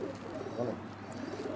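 A high flying pigeon gives a soft, low murmuring coo, close by and quiet, over faint background noise.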